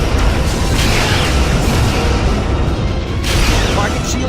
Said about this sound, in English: Romulan target destroyed.